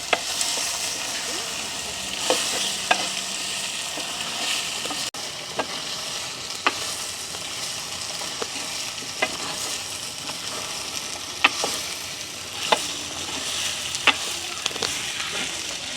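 Elephant foot yam sautéing in hot oil gives a steady bright sizzle, with the sharp clicks and scrapes of a spoon stirring through it at irregular intervals, close and continuous, with no one talking.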